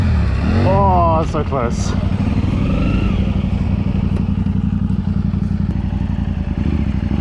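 Close, loud motorcycle engine gets a quick throttle blip and revs, then keeps running with a rough, steady pulse while people talk briefly over it.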